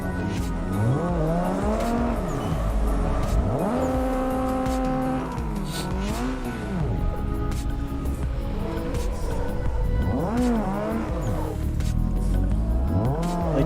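A Mustang drifting in Assetto Corsa revs hard and continuously, engine pitch sweeping up and down in repeated arcs as it slides, with steady tire squeal underneath and loud, close sound throughout.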